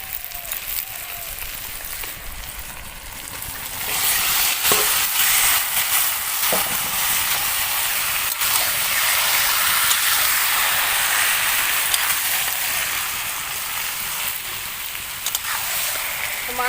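Marinated duck meat added to a hot pan with tomato and green chili and stirred, a loud sustained hiss of frying that swells after a few seconds, broken by occasional scrapes and clanks of a spatula.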